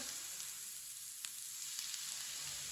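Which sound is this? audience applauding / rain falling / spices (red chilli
spices (red chilli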